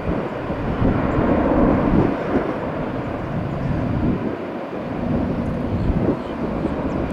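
Jet airliner at Tampa airport throttling up for takeoff on runway 1 left, a steady broad roar that stays loud and near throughout with some wind buffeting on the microphone.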